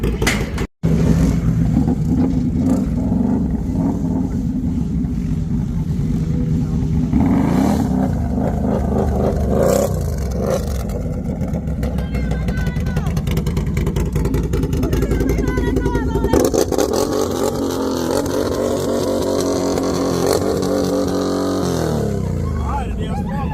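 Can-Am Renegade ATV fitted with a custom dual-pipe exhaust, revving loud and close for most of the stretch, with engine roar swelling and easing in bursts and a few voices briefly heard over it.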